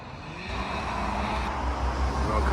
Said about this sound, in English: the peace and quiet here, shattered by leaf blowers and heavy traffic